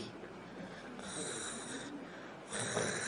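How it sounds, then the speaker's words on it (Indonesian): Soft, breathy snoring in a quiet room, a few low rasping breaths that swell slightly louder toward the end. "Bahkan agak terdengar ya suara ngorok lirih"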